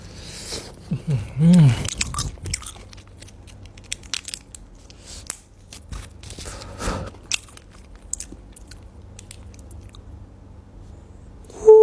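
Close-up biting and chewing of KFC fried chicken: crunchy bites and wet chewing in bursts, with occasional murmured voice sounds between mouthfuls.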